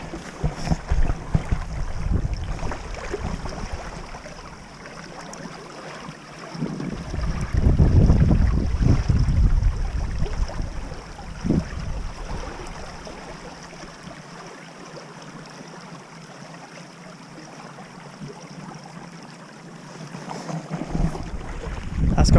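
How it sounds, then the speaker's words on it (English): Fierce floodwater of the River Thames rushes around moored boats, a continuous turbulent roar with surges and wind buffeting the microphone, loud and close throughout. "I'll show you how fierce the water is flowing around these boats."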